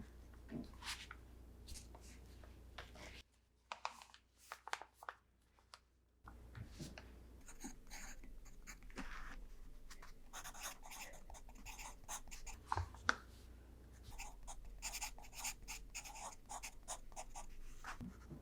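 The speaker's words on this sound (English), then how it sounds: "I just just want to write down your measurements so I remember them" A pen writes on paper in a quiet clothing-store setting, with soft close scratching strokes that come in bursts and brief pauses, plus light rustles and handling noises throughout.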